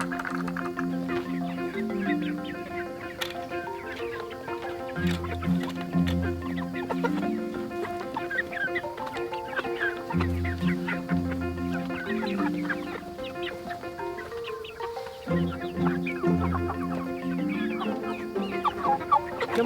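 Meat chickens cluck steadily in a coop on a pastured poultry setup, a dense flock chorus of overlapping clucks and chatter, fairly close and continuous, with no talking.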